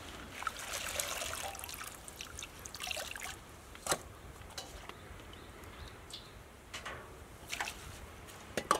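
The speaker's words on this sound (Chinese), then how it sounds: "好好的清洗几遍" Freshly dug wild greens being rinsed by hand in water, soft trickling and splashing with occasional sharper sloshes, fairly quiet, with faint birdsong in the background.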